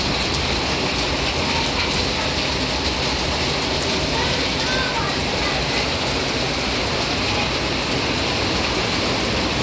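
Heavy morning rain under a dark, clouded sky pours down in a dense, unbroken roar that stays loud and even throughout.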